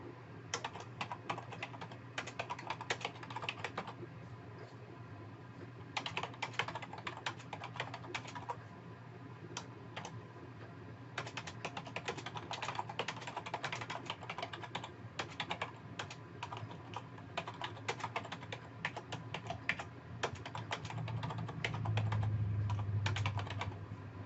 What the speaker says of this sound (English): And you just start typing.